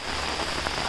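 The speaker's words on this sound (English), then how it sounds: "So it's raining," Rain falling in Periyar Wildlife Sanctuary, a brief, even hiss of drops pattering on surfaces, soft and continuous with no voices.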